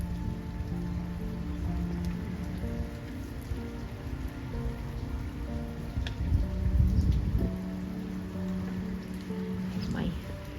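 Steady rain pours over a garden with tangerine trees and green plants, a dense continuous patter on leaves and surfaces that swells briefly midway, with faint speech-like murmurs beneath.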